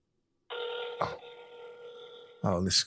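A telephone rings on an outgoing call, a steady electronic ring tone that holds for about two seconds, interrupted by a brief click and followed by a voice.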